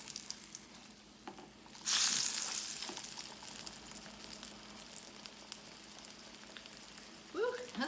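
Slices of yellow summer squash fry in a hot pan, a sudden loud sizzle breaking out and then easing into a steady crackling hiss, with a brief scrape near the end.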